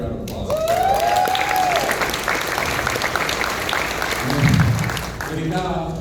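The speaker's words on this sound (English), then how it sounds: "Give them another round of applause." Audience applause at a firearms dealer conference in Dallas, a steady wash of clapping lasting several seconds, with a voice talking over it.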